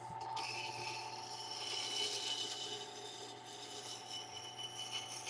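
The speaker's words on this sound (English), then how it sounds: "I'm just gonna sharpen my bowl gouge over here real quick because it needs it." A bowl gouge ground on a sharpening system, a continuous faint rasping and scraping hiss with a steady motor hum underneath, no speech.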